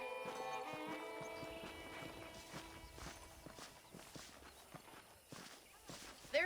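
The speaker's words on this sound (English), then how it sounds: "The horses are saddled up over here." Horse hooves clip-clop in a steady walking rhythm in Red Dead Redemption, close by, over a soft sustained musical backdrop with a brief whinny-like sound near the end.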